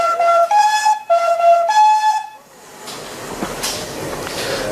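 Great Western steam locomotive at the Rocket 150 cavalcade, a loud tonal whistle sounding in several steady blasts, then fading into rumbling train noise and crowd ambience.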